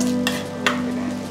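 Cumin and ginger frying in a pan for veg pulao give off a steady close sizzle, with two short bursts where the spices are stirred or tossed.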